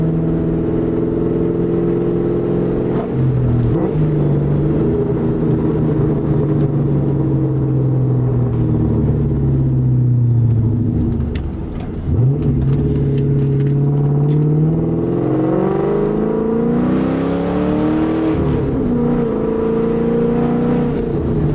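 A 1999–2004 Ford New Edge Mustang GT with 4.10 gears accelerates through the gears, its engine note rising and dropping with each shift, a loud, close rumble heard from inside the car.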